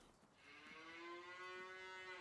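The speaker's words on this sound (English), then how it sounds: "We don't already have cows" Cattle in Farming Simulator 19 give a sustained, rising moo that swells and holds loudly for about two seconds, standing alone without talk.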